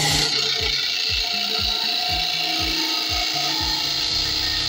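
A steady mechanical whir and rasp runs throughout, with a rhythmic ratcheting grind, like an electric sander working wood close by, powered by a Bluetti AC180 power station.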